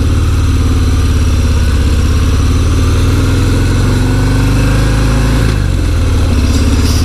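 A 2018 Harley-Davidson Fat Bob Softail with a Milwaukee-Eight engine rumbles loudly and steadily during a test ride, a deep close exhaust drone that holds throughout with a slight shift in pitch near the end.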